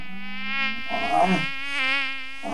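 A mosquito whines close by, its thin buzzing tone wavering up and down in pitch as it flies around, with no voices.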